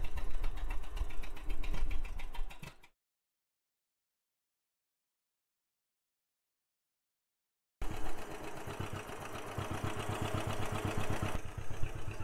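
A John Deere 620 tractor engine running while belted to a Rumley, a steady loud rapid mechanical chugging that cuts out completely for several seconds, then resumes just as strong.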